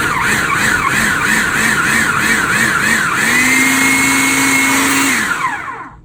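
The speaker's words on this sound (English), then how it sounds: "we're going to put the peaches and the jalapenos in our food processor blender." A food processor blending peaches and jalapenos whirs loudly in repeated short pulses, its motor pitch rising and falling, then runs steadily for a couple of seconds before winding down.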